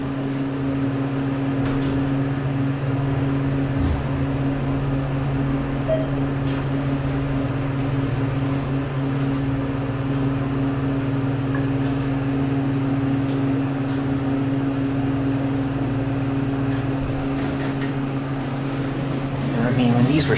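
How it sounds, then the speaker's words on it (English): Elevator machine room of a Schindler MT installation modernized by ThyssenKrupp, serving two cars at an IKEA store in Conshohocken: a loud, steady motor hum with constant tonal drone and fan-like noise, unchanging throughout. "Let's listen to the motor."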